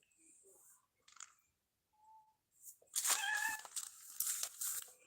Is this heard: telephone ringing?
no